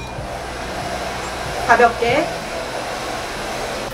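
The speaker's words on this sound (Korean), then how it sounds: "드라이기로 한번 레이어링 해주시고" A hair dryer blows steadily on the hair roots after a fixing spray is applied, a continuous airy roar throughout with a brief louder burst near the middle while someone speaks briefly over it.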